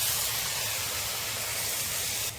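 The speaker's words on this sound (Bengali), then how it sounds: "হালকা করে একটু জল চারধার দিয়ে দেবো।" Water splashed around the edges of a hot pan of pabda fish curry with taro gives a loud, steady sizzling hiss that holds evenly and cuts off abruptly at the end.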